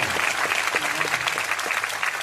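Steady applause from an audience fills the whole stretch, a dense patter of many hands clapping at even loudness.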